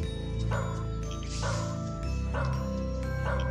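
A video game dog from BorderCollie Blaster barks in a short repeating pattern of about four yips over steady game music.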